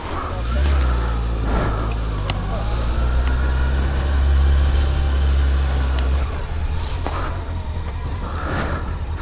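Motorcycles pulling away together from a moto school graduates' meetup, a steady low engine drone with rising and falling revs as bikes move off, fairly close and loud, with faint talk underneath.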